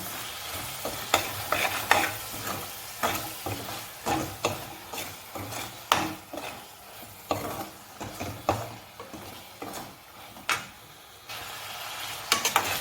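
Onions with ginger garlic paste are stirred in a sizzling pan, giving a constant frying hiss broken by a rhythmic series of scraping, clattering spoon strokes, close and fairly loud, with no talking.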